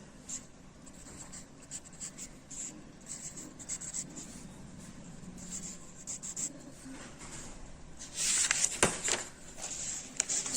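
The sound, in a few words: writing with a pen on paper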